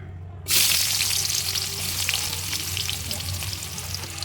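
Onion dropped into hot oil in a pan erupts into a sudden loud sizzle after a brief quiet moment, then keeps crackling steadily up close with faint stirring, no talk.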